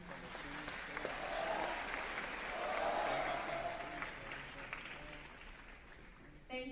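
Audience applause fills a school Veterans Day assembly, a steady wash of clapping from a large crowd that swells and recedes over several seconds, with some voices mixed in.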